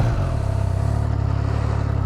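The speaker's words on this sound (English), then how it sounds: "So you'll hear as we flip the switch here, this bike comes to life, the 3-cylinder note" Triumph Trident 660 three-cylinder motorcycle engine firing up and settling into a steady, throbbing idle, close and loud, with no talking.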